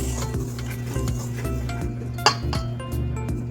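Pizza dough ingredients being stirred in a bowl, with rhythmic scraping and soft clinks of a utensil against the bowl repeating steadily, and one sharper knock partway through.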